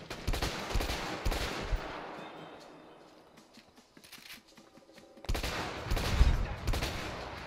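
Gunfire rattles in the video game A Way Out, bursts of rapid shots and heavy impacts, loud at the start, fading in the middle, then returning with a close, booming volley.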